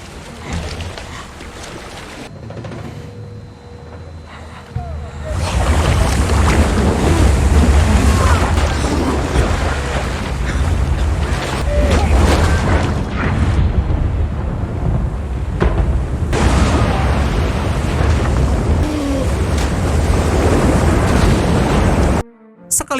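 Loud rushing river water surges and churns continuously as a man drifts downstream, a broad turbulent wash that swells after a quieter opening and holds steady to the end.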